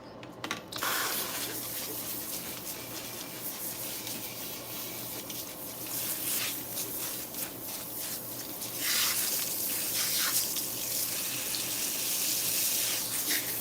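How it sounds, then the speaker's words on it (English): Warm water sprays from a sink faucet while hair is rinsed at a salon wash basin, a steady hissing stream that swells louder as the flow shifts through the hair, with no talking. "I'm still using warm water to rinse her"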